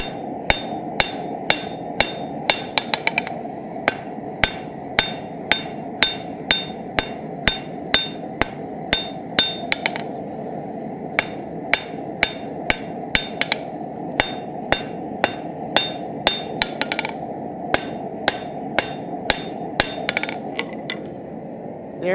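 Blacksmith hammer blows draw down a tenon on hot steel while forging: a loud, steady run of sharp ringing strikes, roughly one or two per second, with a short break midway.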